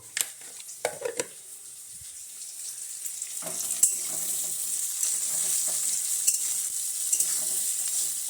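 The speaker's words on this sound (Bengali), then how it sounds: "পেঁয়াজটা লাল লাল করে ভাজছি" Onions fried with salt and stirred in a pan for a Bengali chicken giblet dish, a few clattering stirs and scrapes at first, then a rising steady hiss of frying with occasional clicks, close, no voices.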